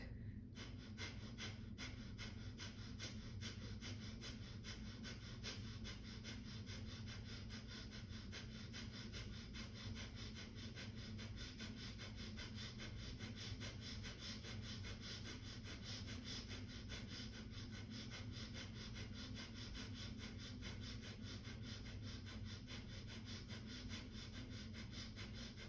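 Steady, rhythmic breathing during a Kundalini yoga kriya, each forceful breath repeating in an even, sawing pulse, quiet and close, running continuously without talk.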